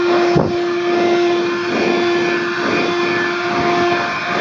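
A Vehemo 12V car vacuum cleaner fitted with an upholstery brush drones steadily and close, a constant motor whine with a brief bump as the brush sweeps fabric in a car, no voices.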